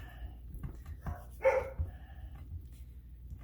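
Dogs barking outdoors at night, a few faint, distant barks and yips scattered over quiet background noise.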